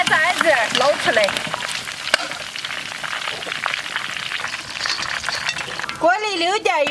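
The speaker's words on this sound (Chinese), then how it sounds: "锅里多倒一点油，把驴排炸一下。" Donkey ribs deep-frying in plenty of oil in a wok, a steady crackling sizzle heard close up beneath a voice speaking at the start and again at the end.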